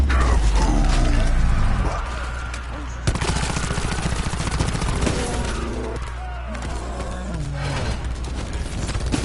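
Rapid gunfire from a Call of Duty: Black Ops 4 zombies match, loud bursts of shots running through the whole stretch amid game music and effects, with a brief break near two seconds.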